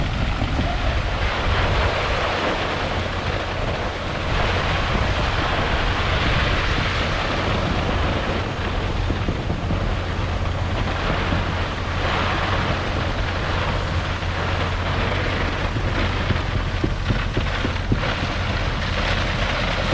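Concrete pouring into ICF basement wall forms that hold water, a steady, dense rushing wash that runs unbroken throughout at a constant loud level, with a low rumble beneath and no talk.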